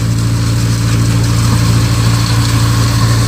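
A tractor-driven thresher cleaning soybeans runs with a loud, steady, deep engine drone that holds an even pitch without pause, close by and with no one speaking.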